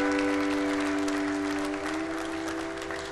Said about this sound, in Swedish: Applådera er själva nu.